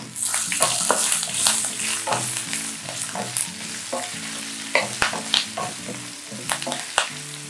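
Turmeric and spices sauté in a pan for hotel-style lemon rice, a close, bright sizzle broken by repeated scraping and stirring strokes, with no one talking.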